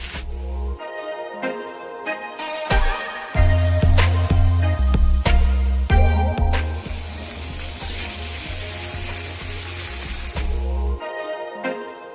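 Salmon fillet seasoned with herbes de Provence and a garlic-pepper rub fries skin-side down in a pan, a constant, close sizzle under prominent tonal background music.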